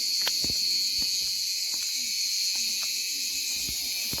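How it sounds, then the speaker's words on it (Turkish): Steady high-pitched cicada buzzing drones continuously outdoors, with occasional faint clicks and distant low sounds beneath. "Yine Ağustos böcekleri bizim için ezgiler söylüyor."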